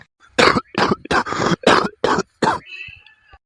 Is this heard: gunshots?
no